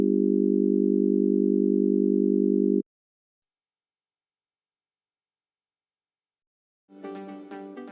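A pure, thin high tone, a harmonic stack shifted above 5 kHz, holds steady for about three seconds between a low droning tone and a brief burst of bright, busier sound. Clean and even in level, with no voices.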